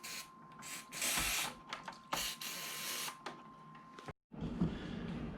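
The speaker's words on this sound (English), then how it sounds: "I just douse some electrical contact cleaner into that." Electrical contact cleaner is sprayed from an aerosol can into the switch of a Crown 3-in-1 record player, giving several short, close hissing bursts and rustles with a faint steady tone beneath.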